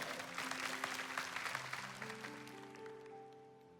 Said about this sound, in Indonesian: Tepuk tangan bagi Tuhan ya.